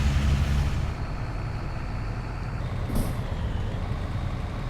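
Steady rumbling Scania 143M truck engine drone in Euro Truck Simulator 2, with a brief hiss of air brakes and a short high tone, loud and continuous with no talking.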